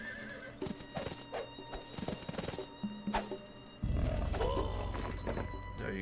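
Horse cavalry units in the Rise of Nations strategy game: hooves clatter in quick clip-clop bursts with horses neighing, then a dense galloping rush surges louder and holds steady, alongside battle noise.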